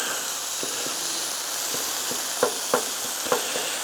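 Ground beef sizzling on a flat-top griddle as it is stirred and broken up, a steady frying hiss with several sharp spatula scrapes and taps toward the end.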